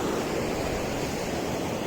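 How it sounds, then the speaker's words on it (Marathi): The Vangani–Badlapur river near Malshej Ghat in monsoon flows with a dense, steady roar of rushing water, loud and continuous with no pauses or voices. "आणि ही नदी, सुंदर असा नजारा."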